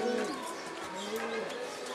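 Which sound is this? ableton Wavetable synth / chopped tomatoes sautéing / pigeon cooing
pigeon cooing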